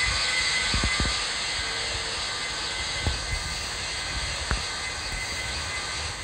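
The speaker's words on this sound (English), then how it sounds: "Vietnam Airlines 102 is taking off runway 29 left" A simulated Vietnam Airlines airliner, an A350-900 or 787-9, spools up and takes off from runway 29 left in Infinite Flight, with a steady loud jet engine roar and a few faint clicks.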